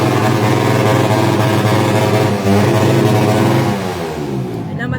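Motorcycle engines rev loudly and close by at an outdoor motor show. The roar holds steady throughout, its pitch swelling and dipping as the throttles are worked.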